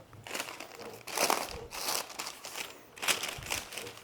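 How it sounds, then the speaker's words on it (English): Baking paper crinkles and crackles close up as it is handled during boat building, in several bursts of rustling separated by short pauses. "Yeah, baking paper."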